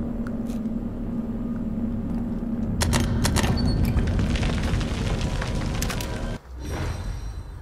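A Magnum revolver in The Evil Within game lets off a heavy boom over a steady low game ambience, followed by a ringing, rumbling tail, with a brief dip and another thud near the end.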